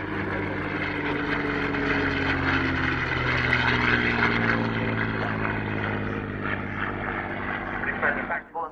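Four propeller aircraft take off together in formation at the Yeovilton airshow, a loud, steady droning roar with rising engine tones that holds for several seconds before easing off near the end.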